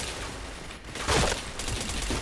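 Gunfire in a video game shooter, with a burst of shots rattling out loudly and closely, then a continued spray of rapid fire after a brief lull.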